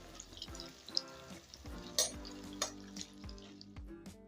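Coated sweet potato and yam pieces frying in hot oil, a soft sizzle with scattered pops and crackles, close and faint, no voices over it.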